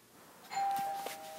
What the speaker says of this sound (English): Must be the doorbell.